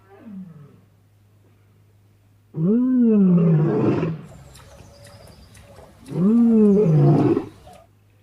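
Lions roar in two long, deep, powerful bursts, close and loud, separated by a few seconds of quiet.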